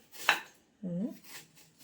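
One sharp knife chop through banana stem on a board, then a short scraping rub, with quiet pauses around them.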